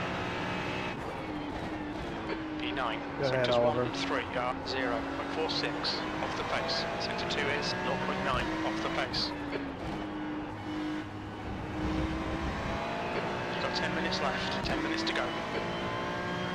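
Ferrari GT3 race car in the iRacing video game at Okayama, a continuous engine note rising and falling through gear changes, heard under team radio chatter.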